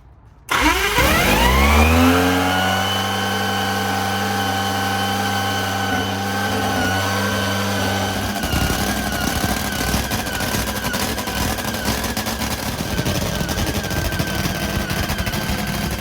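Larry "Spiderman" McBride's drag-racing motorcycle fires up abruptly, settles into a deep, loud, pulsing idle, then after about eight seconds shifts into rougher, higher revving, heard close with no talking.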